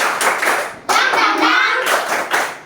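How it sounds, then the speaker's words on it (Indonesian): A class of children claps together in a rhythmic spirit cheer in a classroom, several bursts of group hand clapping in a patterned beat, fairly loud and close, with brief pauses between rounds. "Kita tepuk semangat dulu."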